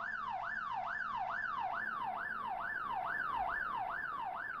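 A police siren in The Getaway: Black Monday sweeps up and down in quick, regular cycles, steady and fairly prominent over a low engine hum.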